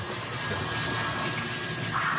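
Water gushing steadily into a container at home, a continuous broadband rush that stays fairly loud and even for the whole stretch, with no talk over it.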